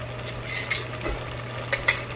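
Lean ground pork cooking in lard in a pan, a soft steady sizzle with a few light stirring scrapes and clicks of a utensil near the end.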